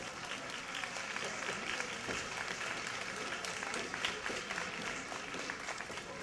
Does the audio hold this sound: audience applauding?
yes